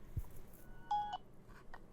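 A Nokia 6600 Symbian phone powering up gives a short faint electronic tone, one clean sustained beep followed by a couple of brief softer blips in a quiet room.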